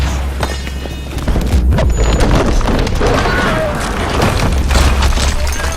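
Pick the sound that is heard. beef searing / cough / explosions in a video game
explosions in a video game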